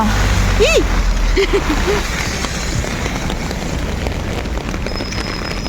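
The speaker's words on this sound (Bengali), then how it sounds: "মারাত্মক ঝড় বৃষ্টি হচ্ছে" Heavy rain pours in a dark storm, a steady loud wash of water heard up close throughout, with a few brief vocal sounds near the start.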